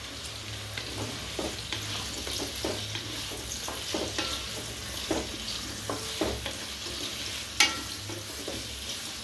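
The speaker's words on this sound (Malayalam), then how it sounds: "ക്യാരറ്റ് എടുത്ത് ഒന്ന് വാട്ടിയിടാൻ വേണ്ടി ആ നെയ്യ് വെളിച്ചെണ്ണ കൂടി ഇട്ടതിലേക്ക് എടുത്തിട്ടിട്ടുണ്ട്" Carrots frying in ghee and coconut oil in a pan for biryani, a continuous close sizzle broken by repeated scraping stirs and one sharp clatter near the end, with no talking.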